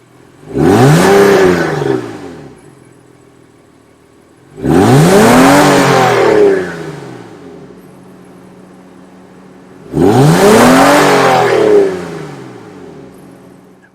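A 2016 Honda Pilot Elite's exhaust booms through three separate engine revs, each surging up sharply, holding briefly, then falling away into a quiet idle between bursts, close and loud with no talking.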